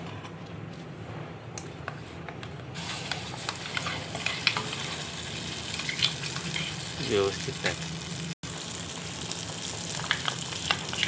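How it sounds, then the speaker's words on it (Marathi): Finely ground masala, blended in a mixer, frying in a little oil for a bitter gourd curry, with a steady low sizzle and occasional stirring scrapes under brief talk. "चांगला मसाला असा फ्राय झाला तेलात"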